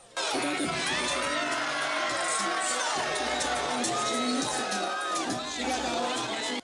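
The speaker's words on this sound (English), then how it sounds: "The cheering continued" A large, die-hard concert crowd at a show cheers nonstop, with dense roaring, screams and shrill whistles sustained loudly throughout.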